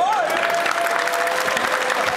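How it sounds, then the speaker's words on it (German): Audience at a boxing event applauding, a dense, continuous clapping from a crowd heard close and fairly loud for a couple of seconds. "Applaus, meine Damen und Herren."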